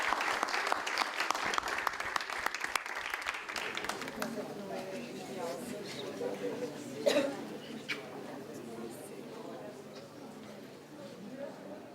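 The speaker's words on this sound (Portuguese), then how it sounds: "Uma salva de palmas e felicidade." Film festival audience applauding for the filmmakers, a burst of clapping for about four seconds that then fades into murmuring voices and room noise, heard from a moderate distance.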